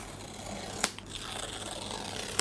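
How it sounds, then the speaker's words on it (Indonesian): A MacBook Neo 13-inch laptop is unboxed, with close crinkling and rustling of packaging and two sharp tearing or snapping clicks. "Ayo sekarang kita unboxing. MacBook Neo"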